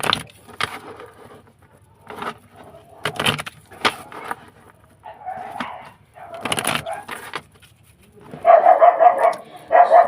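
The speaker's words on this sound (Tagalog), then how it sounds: "Sorry guys, ang ingay ng aso namin tumatahol." A pet dog barks in loud, rapid bursts near the end, a cluster of sharp close barks after quieter indoor knocks and rustling.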